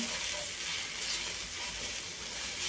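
Green chilies for thecha, with salt added, roasting lightly in a pan: a steady, close sizzle and frying hiss runs without a break throughout, with no voices.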